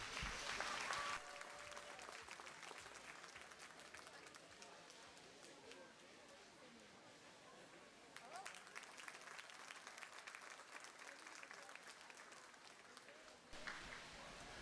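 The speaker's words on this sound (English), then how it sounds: "let's give all these exhibitors one last round of applause" Crowd applause at a youth livestock show goat division, steady and moderately loud in a large arena, fading a little midway and swelling again, with faint background voices.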